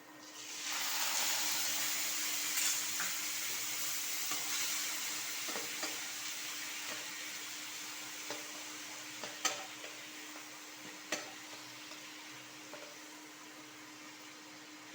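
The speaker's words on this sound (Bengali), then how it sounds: "পেঁয়াজ বাটাটা একটু হালকা করে ভেজে নেব" Onion paste frying in oil for a rohu fish curry, a steady soft sizzle and hiss with occasional small pops and stirring scrapes, close and moderately quiet, with no talking.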